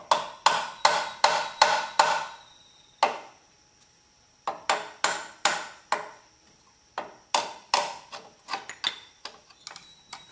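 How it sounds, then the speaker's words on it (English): A small hammer tapping a brake part into a slot on an old Hyster S25A forklift axle: sharp metallic taps in quick bursts of several strikes, with short pauses between groups, close and clear. "Take a little hammer, kind of tap it."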